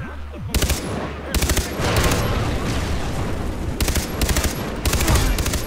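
Automatic gunfire rattles through a co-op match of the video game Far Cry 3, with several sharp bursts of rapid shots between stretches of dense battle noise, loud and close, and no voices.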